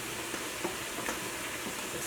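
Bang bang shrimp sauce being stirred in a pan, a soft steady scraping and sizzling hiss with faint utensil clicks, alone and close.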